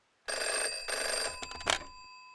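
A telephone bell rings loudly in two short bursts of bright metallic trilling, clear and close with nothing else around it.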